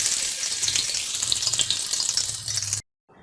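Bread chilli cheese toast fries in a pan with a dense, close sizzle and crackle of oil, continuous and alone before cutting off abruptly near the end.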